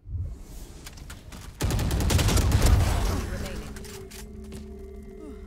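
A burst of gunfire in a shooter video game erupts partway through, a dense fusillade of overlapping shots that rings out and fades, after a quieter opening with faint game sounds.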